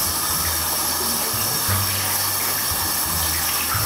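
A tap runs steadily into a sink while hands are washed, a loud, continuous gush of water with a low hum underneath and no speech.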